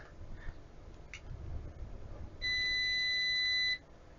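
Kaiweets ST600Y multimeter continuity test gives a single steady electronic beep lasting about a second, clear and close over faint background noise.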